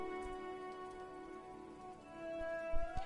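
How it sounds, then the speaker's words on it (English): Rain in Hollow Knight Silksong, a soft, steady patter of droplets under sustained music tones, with a few louder drip taps near the end. "Listen to the raindrops."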